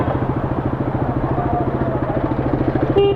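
A motorcycle engine idles close by with a fast, even low-pitched chugging pulse, and a brief higher tone and clatter at the very end.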